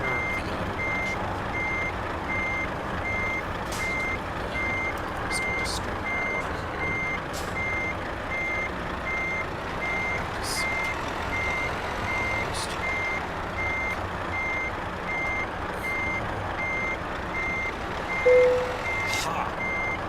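Truck reversing to park a trailer in a driving video game, with steady, evenly spaced reversing beeps over a constant engine drone and a brief hiss near the end.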